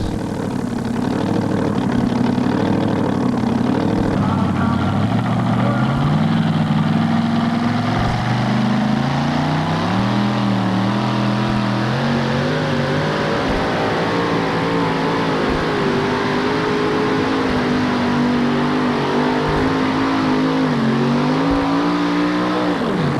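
A pulling truck at a 1988 NTPA truck pull in Syracuse roars at high revs off the line. The loud, steady engine note climbs and wavers through the whole run with no talk over it.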